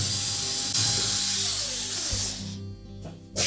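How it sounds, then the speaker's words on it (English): A ratchet wrench loosens the quarter-inch hex head screws holding the top of a Whirlpool washer, a loud, close, dense mechanical clicking that fades near the end into quieter scraping and a final burst. "we're next going to remove these 3 retaining screws for the main top"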